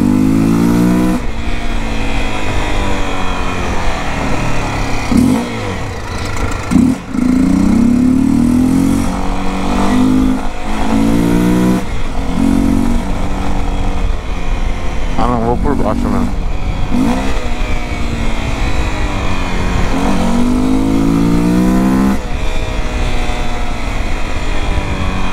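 A car engine revs hard and changes pitch repeatedly, loud and close from inside or beside the car, with people talking over it.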